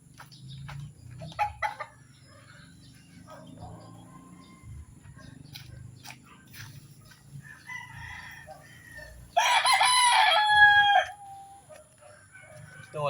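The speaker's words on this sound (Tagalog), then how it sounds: "para makakain na po yung ating mga manok na nakakulong" Caged pet chickens cluck softly and sporadically nearby, then a rooster lets out a loud, clear crow partway through, with quieter scratching and background farmyard noise around it.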